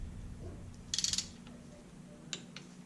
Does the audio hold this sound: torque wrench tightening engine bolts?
yes